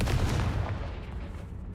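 Confringo fire spell from Hogwarts Legacy erupting in a loud, booming blast with a rumbling low-heavy body that rolls on and slowly tails off, heard alone without voices.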